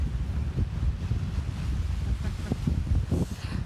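Ocean surf and wind at the seaside roll in as a steady low rumble and wash, with gusty microphone buffeting throughout and no clear individual wave breaks.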